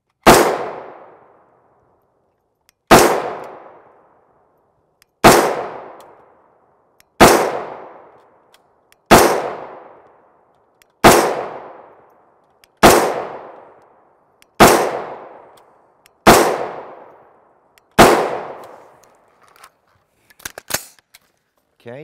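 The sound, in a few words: 5.56mm MK318 rounds fired from a 10.5 inch SBR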